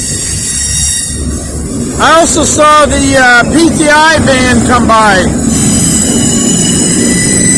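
A Norfolk Southern freight train moves through a rail yard connector in Lynchburg with a steady rumble, and its wheels let out a wavering metallic squeal for a few seconds. Someone talks over the noise.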